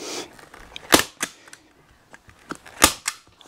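A handheld staple gun firing staples backstage at a stage setup, giving several sharp, loud snapping bangs at irregular intervals with quieter clicks and handling sounds between them.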